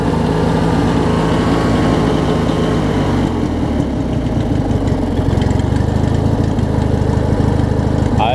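A Craftsman mower with a Briggs opposed-twin engine idling, heard as a loud, close, steady low rumble with an even pulsing beat that runs throughout.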